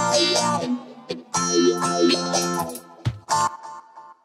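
Phaser effect on a sound source whose rate is being adjusted, giving sweeping, swirling tones in irregular bursts with short pauses, loud and close.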